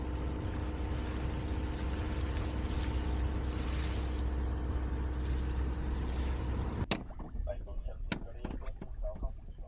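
A sailboat's engine drones steadily while motoring with little wind, a low continuous rumble under voices, then it cuts off abruptly, leaving quieter clunks and knocks on board.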